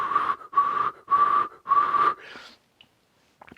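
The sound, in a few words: whistling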